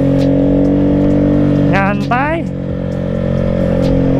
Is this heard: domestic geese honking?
no